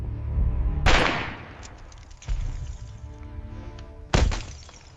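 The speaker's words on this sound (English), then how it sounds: "The shot echoed through the palace corridors." Gunshots ringing through stone palace corridors: three loud, booming cracks spaced a second or two apart, each trailing off in a long reverberant echo, with no voices.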